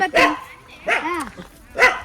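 A dog barks three times in short, loud bursts spaced about a second apart, each bark sharp and close by.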